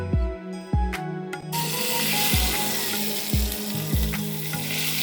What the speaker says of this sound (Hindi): half tea spoon chilli flakes है और इनको मैं ऑयल के अंदर भून लूँगी